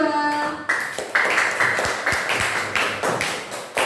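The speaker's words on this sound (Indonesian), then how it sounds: "Tepuk tangan untuk Cynthia dan kelompok 2" Students in a primary-school classroom clap in a sharp, rhythmic pattern of distinct repeated claps, close and fairly loud, following a brief ringing tone.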